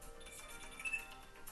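Phone ringtone chiming in a Digimon video game, a faint electronic ring with a brief brighter tone midway, heard alone.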